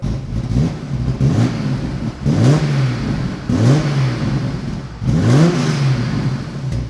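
The six-cylinder engine of a 1985 BMW M635CSi E24 is revved repeatedly, about five times, each rise climbing sharply and then falling back to a throaty idle. It is loud and close, with no talking.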